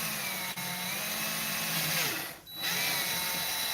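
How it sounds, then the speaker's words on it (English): A power drill bores through a plastic toy lantern (a musical lantern) to make a wire hole, whining steadily and loud up close for several seconds with a brief dip near the end. "I'm just going to drill right through here, pretty much anywhere in it"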